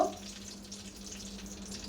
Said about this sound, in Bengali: আমি কুসুম গরম তেলের মধ্যে এই মিষ্টিগুলো দিয়ে দেব